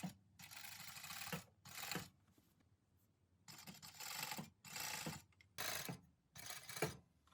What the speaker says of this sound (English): I'll be serging this part.